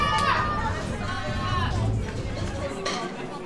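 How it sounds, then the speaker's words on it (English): Crowd noise at the Auckland weightlifting championships, a steady roar of chatter and cheering from a packed audience that fills the space throughout, with a commentator's voice partly audible over it. "Not sure if you guys can hear me at home with that crowd"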